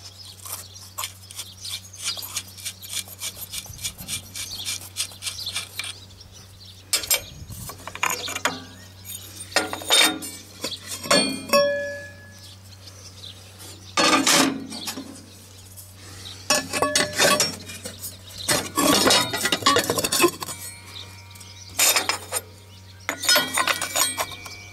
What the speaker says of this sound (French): il faut dévisser les vis qui sont derrière du capot là. On ouvre le capot, on desserre.